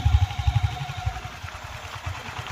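A Royal Enfield Hunter 350 motorcycle in Tokyo Black idles close by, its single-cylinder engine giving a steady run of low, uneven thumps with a faint mechanical clatter and no talk.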